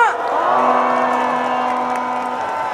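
Crowd at a Save Korea national emergency prayer rally in Cheonan cheering and whooping with scattered applause, a loud dense roar of voices throughout with a sustained tonal shout layered over it.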